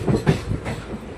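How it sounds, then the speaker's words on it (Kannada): A train pulling out of Yesvantpur railway station, a junction with lines toward Yelahanka and Tumkur, with rumbling wagons and soft rhythmic clatter of wheels over rail joints, steady and moderately close, no voices. "ನಮ್ಮ ಟ್ರೈನ್ ಹೊರಟಿದೆ ನೋಡಿ ಯಶವಂತಪುರ ರೈಲ್ವೆ ಸ್ಟೇಷನಿಂದ"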